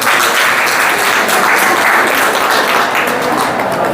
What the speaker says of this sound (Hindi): आगे सिमरन के लिए ताली बजाइए